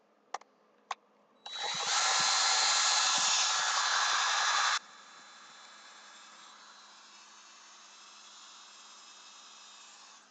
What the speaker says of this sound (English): This drill bit sucks.